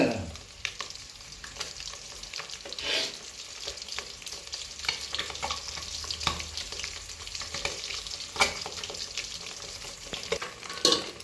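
Steady, close sizzling of eggs frying and being stirred in ghee for a rustic country-style egg biryani, with faint scraping and clinks of a spoon against the pan throughout, and no talk.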